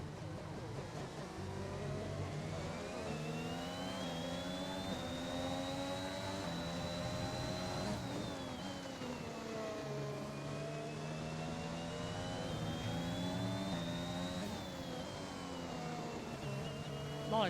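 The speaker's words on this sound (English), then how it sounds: "A lot of downshifting as well." Race car engine at the Austrian Grand Prix circuit, loud and close throughout, its pitch climbing and falling steadily as the car accelerates, then drops sharply around a downshift before rising again.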